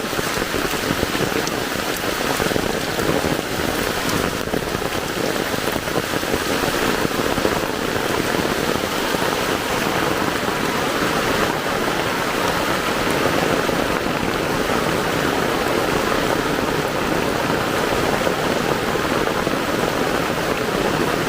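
Heavy rain pours steadily and loudly, a dense continuous hiss of drops drumming on surfaces with no pauses.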